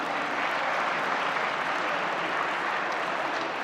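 Steady, dense applause from an audience at the opening session of the XII Lisbon Forum at the University of Lisbon Faculty of Law, filling the hall evenly without pause and with no voices over it.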